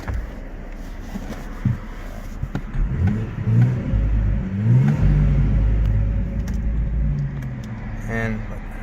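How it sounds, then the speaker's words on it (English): The engine of a 2017 BMW 340i xDrive M-Sport revs up in a few surging, throaty swells and then settles back, close and loud, with a voice briefly heard over it. "Let's give it another rev for good measure."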